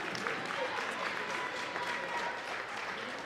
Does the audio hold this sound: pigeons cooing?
no